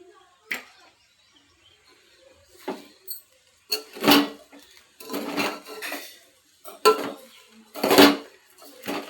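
Salted uggani, a Telangana puffed-rice dish, is mixed in a metal vessel. A spoon clinks and scrapes against the vessel in several separate bursts with short pauses between them, close and fairly loud.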